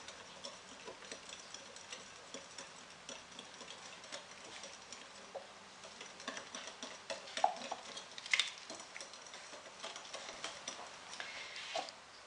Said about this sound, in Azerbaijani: İçərisinə tökürəm və qarışdırıram.